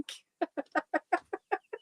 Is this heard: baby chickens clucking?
yes